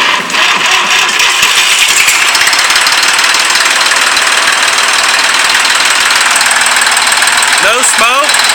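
An old Fordson Super Dexta tractor engine runs loud and close with a dense, steady mechanical clatter that holds without a break, and a few brief knocks come near the end.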